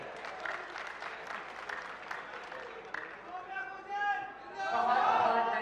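Audience applause at a live public event in India, a sustained patter of clapping that swells louder toward the end, with crowd chatter mixed in.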